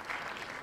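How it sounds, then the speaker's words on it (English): A short burst of applause, many hands clapping together in a dense, even patter, brief and moderately loud. "It's the Roadrunner applause."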